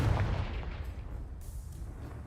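A Confringo fire-blast spell bursts in Hogwarts Legacy, a deep booming blast that rumbles loudly at the start and trails off into a sustained low roar.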